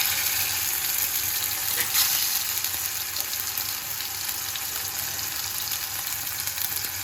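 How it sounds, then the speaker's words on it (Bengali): Chicken popcorn pieces frying in hot oil: a steady, bright hiss and crackle of sizzling that holds close and even for several seconds, with faint stirring and no voices. "এইভাবে এক এক করে সব চিকেন পপকর্ন আমরা ভেজে নেব।"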